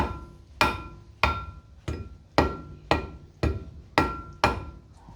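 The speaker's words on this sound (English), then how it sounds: "just use a rubber hammer" Eight or nine solid thuds at a steady, unhurried rhythm, a rubber mallet knocking on metal, each strike close and dull with a short ringing tail.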